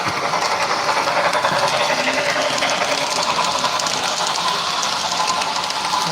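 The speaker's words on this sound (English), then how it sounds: "Now people can see a train coming." A model railroad train running on a layout at a fair, a steady close mechanical whir and rumble with a faint hiss, continuous and even throughout with no talk.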